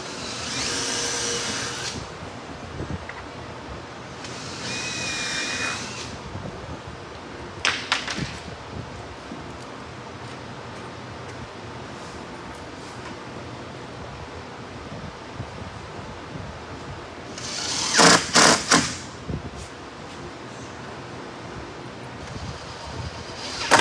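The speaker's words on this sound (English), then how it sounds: "All I'm doing is pre-drilling holes and sinking some screws in there to get my form tight." A power drill pre-drills holes and drives screws into a wooden form for a river pour table, sounding as a few separate whirring bursts close by, with quieter stretches between them.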